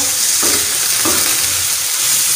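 Spices fry with minced keema on a tawa in a loud, continuous sizzle. Two distinct scraping stirs break through the hiss.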